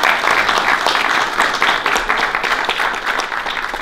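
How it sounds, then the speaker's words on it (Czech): An audience applauds the jury at a Czech film competition awards event, dense sustained clapping filling the hall at steady volume throughout. "takže bychom jim určitě měli ještě jednou zatleskat"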